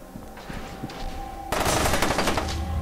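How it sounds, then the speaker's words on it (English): Automatic gunfire in the shooter game F.E.A.R. 2, starting with quieter scattered shots, then a sudden loud, sustained burst of rapid machine-gun fire that fills the second half of the clip. "And there's someone shooting from here."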